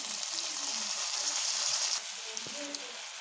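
Onions frying in oil in a pan for an Indian drumstick-leaf (sambar stick leaves) curry, cooked until brown: a steady, close crackling sizzle that runs throughout, with a slight drop in intensity near the end.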